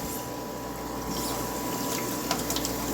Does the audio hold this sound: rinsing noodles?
yes